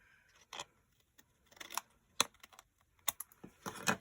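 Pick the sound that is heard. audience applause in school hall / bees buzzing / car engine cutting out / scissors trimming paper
scissors trimming paper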